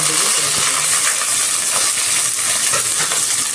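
Cumin seeds and pieces of cinnamon spluttering in hot oil, a close, steady hissing sizzle scattered with small pops and crackles, no speech.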